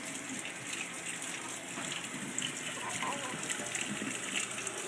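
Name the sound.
running tap water during a bath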